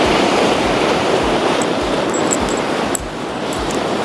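Fast river water rushes across a vehicle crossing near a village in Uttarakhand, a loud continuous broadband roar with wind buffeting the microphone and a few faint high clicks.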